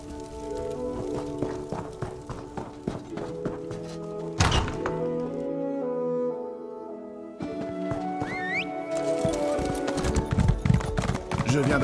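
Horse hooves clip-clop in The Elder Scrolls Online, a busy run of thuds and knocks with a whinny, a brief near-silent gap, then more hoofbeats and game sounds.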